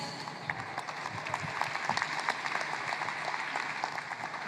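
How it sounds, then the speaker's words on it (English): Congregation clapping during a church healing service, a dense steady patter of many hands sustained throughout at moderate level with a faint murmur of voices beneath. "Clap for Jesus."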